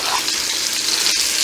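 Country style ribs browning in a hot pan give a steady, loud, hissing sizzle, close up and unbroken for the whole stretch with no talking.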